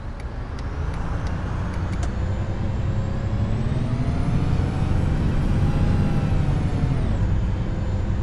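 In the OMSI bus simulator game, a bus handbrake releases with a loud, continuous air hiss over a steady engine rumble and idle drone, a rising tone sweeping upward before dropping back.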